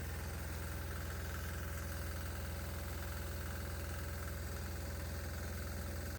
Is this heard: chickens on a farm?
no